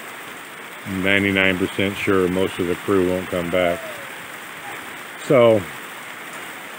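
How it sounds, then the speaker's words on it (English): Steady rain falling outdoors, a soft continuous hiss running throughout as someone talks over it nearby. "who wants to work out in the rain, right?"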